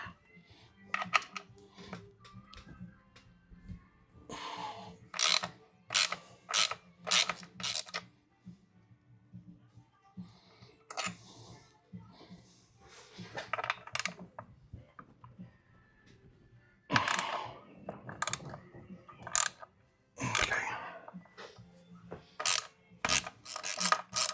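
A ratchet with a 1/2-inch socket works the compensator bolts loose on a 2024 Harley CVO/ST 121, producing intermittent bursts of sharp metallic clicks between quieter pauses, close to the microphone, with no talking.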